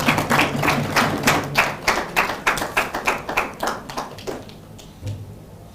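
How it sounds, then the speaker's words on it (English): A small audience claps as panelists take their seats at a youth leadership gathering in Uganda, sparse distinct hand claps in an uneven rhythm that thin out and fade to near silence. "I request that we give a round of applause as our panelists take their seats."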